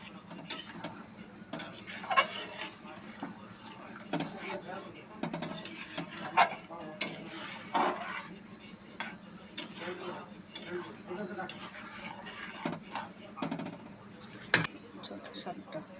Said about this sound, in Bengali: দিয়ে একটু নেড়ে চেড়ে দিচ্ছে